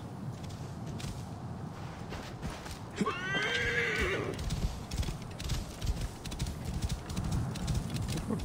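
A horse in the video game Assassin's Creed Origins gives one loud whinny midway, followed by steady clip-clop of hooves, with someone talking over the game sounds.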